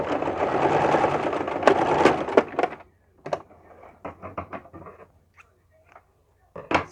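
A sewing machine stitches a skirt waistband, a dense continuous whir for about two seconds that then breaks into shorter stop-start bursts and a few sharp clicks, fairly close and alone with no talking.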